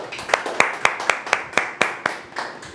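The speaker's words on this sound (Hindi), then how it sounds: "तालियां जोरदार।" A seminar audience at a mock trading session breaks into clapping, about ten distinct sharp claps at a steady, slightly uneven rhythm, close and fairly loud, with no talk over it.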